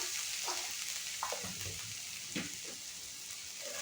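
Green jackfruit curry stirred and fried with turmeric and spices in a pan, with a faint steady sizzle and a few soft scrapes of stirring, quiet and without talk.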